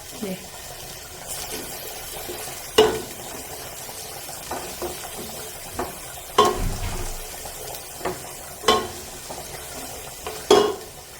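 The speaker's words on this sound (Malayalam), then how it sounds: "നന്നായിട്ടൊന്ന് വഴറ്റി കൊടുക്കാം കേട്ടോ" A ground paste of green chili, ginger, garlic and spices is sautéed in a pot for wedding-style ghee rice. A soft sizzle runs underneath, and loud, irregular clanks and scrapes of a spoon stirring against the metal rise above it.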